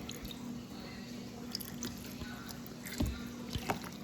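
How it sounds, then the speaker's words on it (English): Water poured over the shells of small pet turtles, giving faint scattered drips and soft splashes against a low steady hum, quiet and close, with a few brighter drips near the end. "I'm going to pour a little bit of water on these guys just to see the colors of their shells cleaner"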